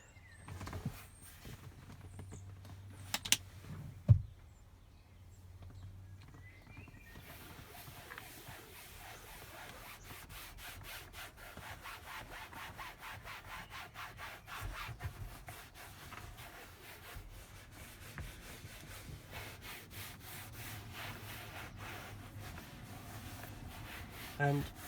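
A towel rubs conditioner into a leather car seat headrest with soft, steady rubbing strokes. The strokes stay faint and close, with a few sharper knocks early on and a person speaking at times.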